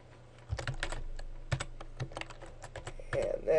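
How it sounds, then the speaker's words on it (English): Typing on a computer keyboard while entering text into a word-processor table, heard as quick, irregular bursts of close keystroke clicks with short pauses between them. "So now I can go ahead and type Timothy."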